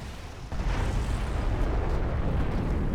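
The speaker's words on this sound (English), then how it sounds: "Nuclear explosions in every direction" Nuclear explosions go off in the real-time strategy game Command & Conquer Generals Evolution: a sudden blast hits after a short pause, then gives way to a sustained, heavy rumbling roar that stays loud to the end.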